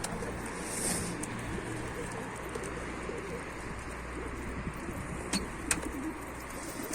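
Food sizzles and is stirred in a pan as vegetables are sautéed for sambar, with scraping strokes of a utensil at a steady pace over a constant low hum.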